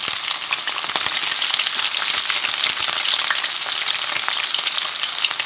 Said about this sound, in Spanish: Vamos a freír la cebolla.